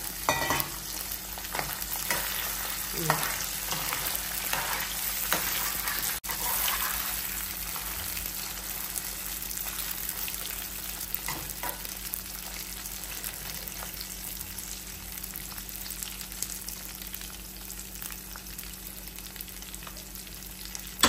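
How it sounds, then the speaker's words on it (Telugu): Small mutton pieces frying in a pan for mutton pachadi give a steady, close sizzle with stirring and scraping throughout, and no one speaks. "ఇప్పుడు ఈ పీసులన్నీ ఇందులో వేసుకుంటున్నాను నేను. ఇవి కొంచెం చిన్న చిన్నగానే ఉంటేనే మంచిగా తొందరగా వేగుతాయి."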